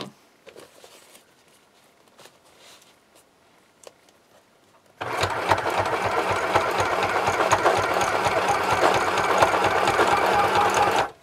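A sewing machine stitches a tote bag, starting after a quiet stretch of faint handling noise and then running steadily and loudly with a fast, even mechanical patter until it stops at the end.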